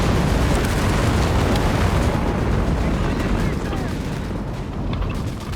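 A walking Stuka rocket barrage in Company of Heroes 3, a loud continuous roar of overlapping rocket impacts and explosions filling the whole span, easing slightly toward the end.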